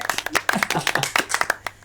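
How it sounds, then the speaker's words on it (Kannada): An audience on a TV family game show applauds in a short, brisk burst of many quick overlapping claps lasting about two seconds. "ಬಲಿ ಚಪ್ಪಾಳೆ."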